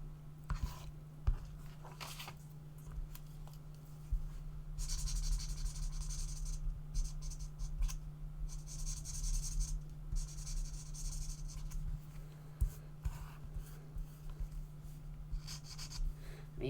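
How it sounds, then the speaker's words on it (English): Pencils scratch and rub across a small sketch card during colouring, a long run of close, soft, raspy strokes in bursts of steady back-and-forth shading over a low constant hum. "So let's do some colouring."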